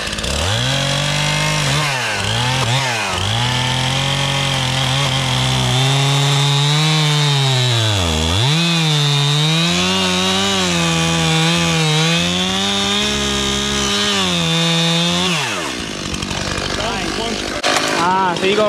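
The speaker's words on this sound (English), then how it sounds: "All right, we got it out. Chainsaw still good." Chainsaw cutting through wood while clearing a new food plot: a loud, close engine drone that revs up and bogs down repeatedly as it bites into the timber, then idles down near the end.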